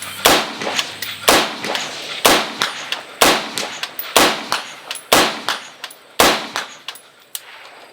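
Rifle gunshots from a CMMG AR, likely 6.5 Grendel or 5.56, fired at a 100-yard target: about nine sharp, loud cracks spaced roughly one second apart, each with a short ringing tail, no talking.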